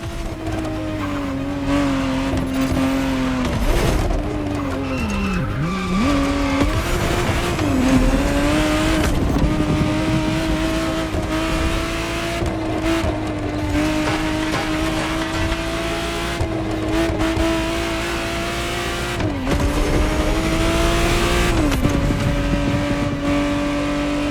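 A 1991 re-engineered Ferrari Testarossa in the racing game The Crew Motorfest revs hard through repeated gear shifts, its loud engine note rising and dipping with brief tire squeal, no voices.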